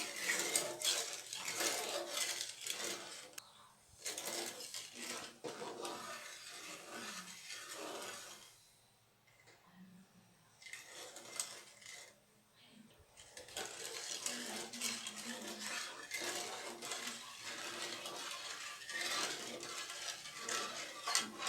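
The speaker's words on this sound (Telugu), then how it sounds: "ఇలాగ మనం కలుపుకుంటా బాగా పాకం తెచ్చుకోవాలి మనం" A spoon scrapes and clinks against a pot while sugar syrup is stirred, repeated rubbing strokes that stop for a short quiet pause midway and then start again.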